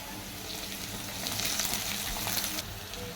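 Potatoes and onions fry in hot mustard oil with a loud, close sizzle that swells briefly in the middle and carries on steadily, with some stirring.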